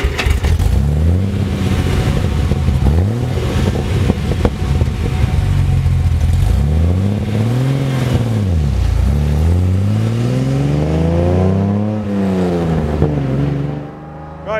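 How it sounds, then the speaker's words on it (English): Classic Mercedes-Benz 300 SL Roadster on the road, its engine loud and close, repeatedly revving up and dropping back as it climbs through the gears before easing off near the end. "So here I am at the wheel of a 300 SL Roadster."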